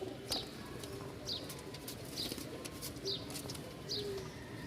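Giribaj high-flying pigeons, a Lal Sundori pair, cooing in repeated short calls about once a second over a steady background murmur, fairly close and soft, with no speech.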